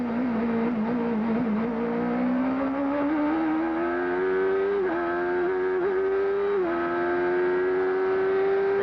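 A 1991 CART race car at Mid-Ohio accelerates out of the Keyhole corner, its engine note climbing steadily through the gears with brief dips at shifts, loud and continuous.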